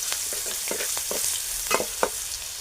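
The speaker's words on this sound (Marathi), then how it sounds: "थोडंसं परतून घेऊ." Turmeric sautéing in hot oil for cabbage bhaji, a close, steady sizzle broken by a few sharper crackles and stirring scrapes, with no voices.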